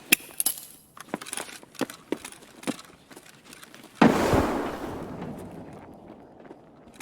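Grenade explosion in the shooter game Escape from Tarkov: a sudden loud blast that decays into a long rumbling tail, preceded by sparse footsteps and small clicks in a quiet interior.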